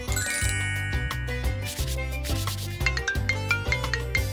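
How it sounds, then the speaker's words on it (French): Mobile phone ringing with a bright chiming melodic ringtone, repeating tinkling notes over a steady low pulse, clear and fairly close. "C'est mon téléphone qui sonne."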